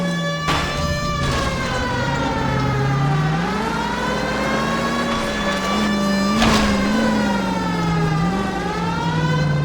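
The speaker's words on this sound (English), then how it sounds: "The siren." A police car siren in the video game L.A. Noire wails loudly, rising and falling continuously, with a steady engine rumble underneath.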